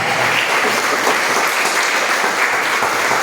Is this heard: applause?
yes